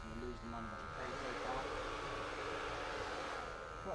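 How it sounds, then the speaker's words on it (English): Cordless hair clipper trimming and shaping a man's beard, a steady close electric buzz running throughout while someone talks over it. "with a cordless clipper as well"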